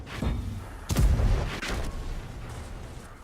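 Several heavy cannon shots boom from a tank firing armor-piercing rounds in a tank video game, a sharp deep blast followed by rumbling echoes and a couple of lighter thuds, with no talk.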